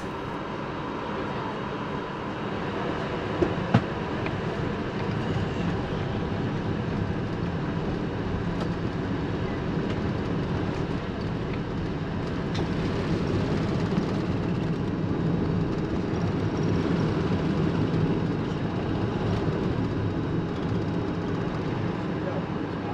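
Steady broadband roar inside an Emirates Airbus A380 cabin during takeoff from Bangkok's Suvarnabhumi Airport, a continuous engine and airflow rumble that holds level throughout with a couple of faint clicks early on.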